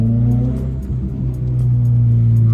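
Nissan 240SX fitted with a GTX2860 turbo on a test drive, its engine droning loud and steady from inside the car with a deep, sustained rumble that dips briefly and then builds again.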